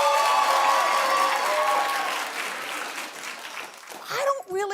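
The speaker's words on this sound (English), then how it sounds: "Clap if you're celebrating Galentines Day" A studio audience at a daytime talk show bursts into loud, dense applause that fills the room for about four seconds, then thins out as a voice starts speaking over the tail.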